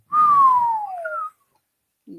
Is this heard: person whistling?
yes